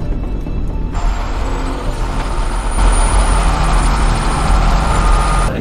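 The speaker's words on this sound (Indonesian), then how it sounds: "mobil truk besar itu sudah berada di dekatnya" A large truck approaching on a road in a film scene gives a loud, sustained engine roar with a broad hissing layer that swells and stays close for several seconds.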